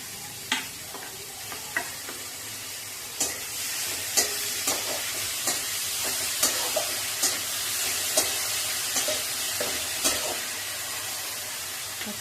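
Capsicum sizzles steadily in a hot pan while a spoon stirs it, with sharp scraping clicks every second or so over a soft, continuous frying hiss, close and moderately quiet.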